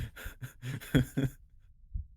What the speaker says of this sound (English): Are you guys feeling just like straight up heartbeat noises?